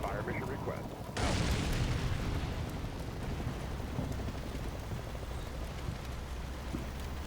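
Artillery fire mission in the war game Combat Mission Cold War: a sudden heavy boom opens a long rumbling barrage of distant explosions, dense and continuous, with a voice briefly heard before it.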